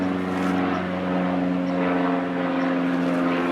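Overhead, a propeller airplane drones steadily with a strong low engine hum and a fairly loud, even level across the few seconds, with nobody talking.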